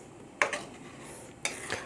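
A spoon stirs dal with water in a pressure cooker, giving two brief metallic scrapes and clinks against the pot with quiet pauses between them.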